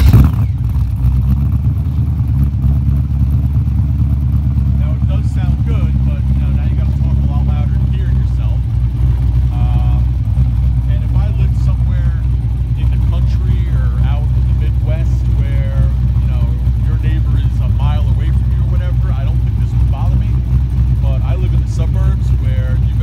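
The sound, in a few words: LS1 V8 engine of Nissan 240SX revving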